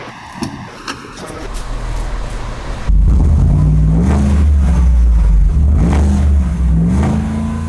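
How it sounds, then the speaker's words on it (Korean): A quiet shuffle is followed by a car engine roaring to life, its loud, deep exhaust rumbling close by as revs rise and settle repeatedly. "어마무시한 마초적인 배기음 한번 들려드리겠습니다"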